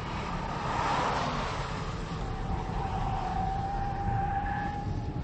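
A supercharged 2004 Ford Mustang SVT Cobra with an Eaton blower runs on a drag strip, a loud steady engine roar with a rising whine that carries on without a break.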